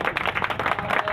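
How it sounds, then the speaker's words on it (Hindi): Audience clapping at a public gathering, a dense burst of rapid, roughly even claps from a crowd, moderately loud and sustained throughout without speech over it. "जोरदार ताली।"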